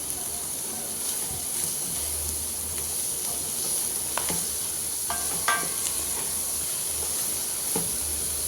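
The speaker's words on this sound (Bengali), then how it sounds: "কুচি করা লাউ দিয়ে দিচ্ছি।" Chopped bottle gourd sizzles in a pan with egg and spices: a steady, fairly quiet hiss of frying with a few light scrapes and taps of stirring scattered through it.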